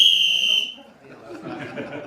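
A sharp, high-pitched whistle blast ends a round of a live Just A Minute panel game, lasting about half a second, followed by low murmuring and light chuckling from the room.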